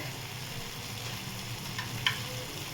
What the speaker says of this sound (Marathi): आता बघा, किती छान असं हे परतून घेतलं मी। बटर आणि तेल आता मसाल्यातून असं बाहेर सुटायला लागले।